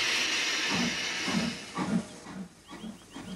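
A cartoon steam train arriving at a station, giving a long breathy hiss of steam that fades into a few shorter puffs and faint clanks, heard alone without talk.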